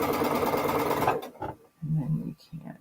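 Sewing machine chain piecing quilt fabric runs in a fast continuous whir for about a second, then stops; a voice speaks afterward in short phrases.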